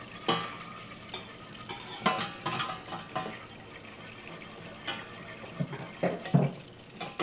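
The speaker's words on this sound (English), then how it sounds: "I'm going to add in this butter here." Butter melting and sizzling in a pan over medium-low heat, heading toward the browned stage, a soft steady crackle with occasional clinks and stirring taps, no voices.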